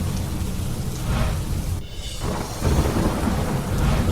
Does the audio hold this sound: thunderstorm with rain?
yes